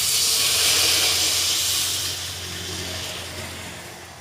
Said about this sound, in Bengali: ঝোলটা 5 মিনিটের মতন ফুটেছে